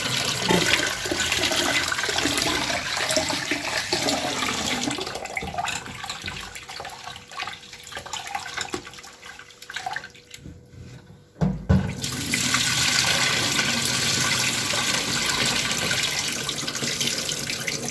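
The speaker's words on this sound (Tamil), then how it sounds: "தண்ணி ஊற்றி வச்சு ஊற வச்சுக்கலாங்க" Loud running water pours steadily to soak millet grains, thins out briefly near the middle, then surges back strong and continuous until the end.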